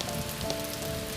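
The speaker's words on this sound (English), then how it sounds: "The rain continued its soft percussion against the window." Soft rain patters steadily against a window in a cozy Victorian village setting, a close, even hiss of drops running without a break through the whole short stretch.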